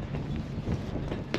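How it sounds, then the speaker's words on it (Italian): Wind gusts buffet the microphone aboard a sailboat, a steady low rumble and rushing noise throughout, close and fairly loud, with brief thumps. "Che vento!"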